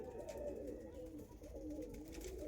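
A breeding pair of Andhra Abluk and Andhra Kalanka pigeons coos nearby, a sustained low burbling that swells and dips slightly throughout.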